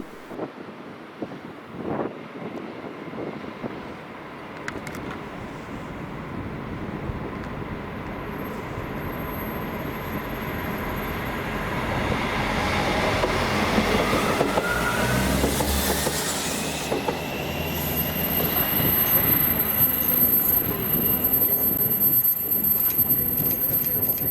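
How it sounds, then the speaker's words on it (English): A Class 158 diesel multiple unit rolls through Paisley Gilmour Street station, its rumble building gradually from distant to close with wheel squeal and wind buffeting on the microphone, no talk. "Then here she came under 5D74, the 1541 GBRF service to Eastfield HS from Kilmarnock Bonnyton Depot, and with a very unexpected 158 717."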